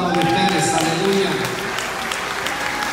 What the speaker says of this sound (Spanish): Y yo quiero que le den un aplauso a Dios por cada uno de ustedes.